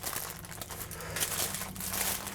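A lettuce wrap filled with Italian deli meat being rolled up toward its final corner, giving a close, continuous crinkling and crumpling of leaves and wrapping with soft tearing textures, steady throughout with no talking.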